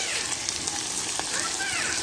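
Pork frying in a large wok, a busy crackling sizzle with scattered pops, close and continuous.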